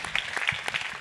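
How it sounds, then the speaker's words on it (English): A live-stream audience claps briefly for a community theater, a short burst of scattered applause with a few sharper individual claps. "let's give Patrick Uran, The Real Theater, a big round of applause for all they do to support the community"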